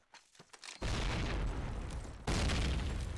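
A grenade blast in a WWII shooter video game on the Carentan map: a sudden loud explosion roars over quiet ambience, followed by a second heavy blast and a rumbling, noisy tail.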